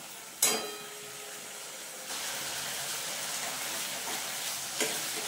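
Spiced yogurt masala sizzles steadily in a hot pan as it is stirred, with a sharp clink of the spoon at the start and a continuous frying hiss that swells partway through, heard alone without talk.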